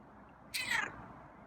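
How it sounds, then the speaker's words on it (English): A single short meow from a feral cat, clear and close, rising and falling over a quiet background. "And there's a meow."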